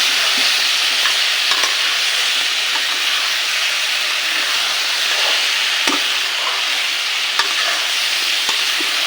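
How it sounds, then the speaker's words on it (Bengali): Potatoes and ridge gourd stir-fry in a pan, a constant close hiss of frying broken by a few sharp scrapes and knocks of the spatula at irregular intervals, with no one speaking. "আলু আর ঝিঙেটা ভালোভাবে ভেজে নিয়েছি।"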